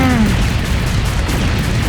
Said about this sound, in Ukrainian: по нам теж стріляють